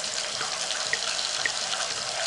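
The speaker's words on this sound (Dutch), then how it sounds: "De spoken spoelen zich onder de koude kraan af." Cartoon ghosts rinse themselves under a cold running water tap in the 1996 PC game Max en het Gele-Sokjes-Spook, a continuous close hiss of flowing water with faint drips.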